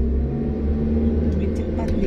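A manual car's engine revving steadily during a driving lesson, a loud, continuous low rumble held close by, with an instructor's voice talking over it.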